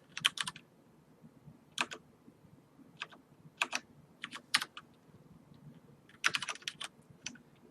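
Keys on a computer keyboard clatter in short irregular bursts of quick clicks separated by brief pauses, close and fairly quiet against a faint background hum, with no talking.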